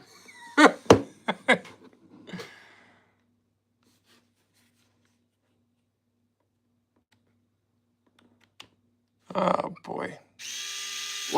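An electric screwdriver whirs in a short, steady motorized burst at the very end, after a person talks in short bursts and then goes quiet.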